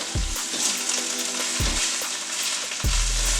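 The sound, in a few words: oil sizzling in a pan for tofu scramble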